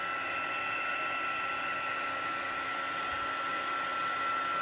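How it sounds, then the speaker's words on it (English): An embossing heat gun blows a continuous, even hot-air roar while heating a card, close and loud with no variation and no talking. "You need to make sure you keep your heat tool moving."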